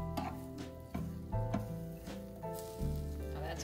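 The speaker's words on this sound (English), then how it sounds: "move it around with the spatula" A spatula pushes oven-roasted broccoli around a hot pan, making faint scrapes and soft sizzling at a low level over a steady tonal background hum.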